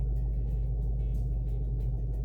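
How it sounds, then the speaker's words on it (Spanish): A warm Ford Mustang Dark Horse with a manual gearbox idles at a settled, lowered idle, a steady deep rumble holding even and close throughout with no revving. "Ya el coche está caliente, ha bajado el ralenti"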